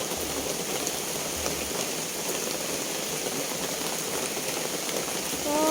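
Steady rain falls continuously, a dense even hiss of drops on surfaces with no voices, holding at a constant level throughout.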